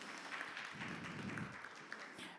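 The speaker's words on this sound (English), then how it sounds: "a round of applause for Madame Madeleine" A conference audience gives a steady round of applause for a panelist at an event on Black women in Canada's digital economy, moderate and continuous, with a faint voice underneath.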